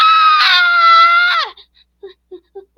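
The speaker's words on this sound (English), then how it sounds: "Indigo's scream was so loud that it awoke some of the birds that were still asleep" Cartoon bird Indigo lets out a single loud, sustained scream with a steady pitch that breaks off after about a second and a half, followed by a few soft, short chirps.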